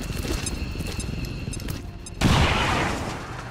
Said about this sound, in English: let's just get that frag grenade in there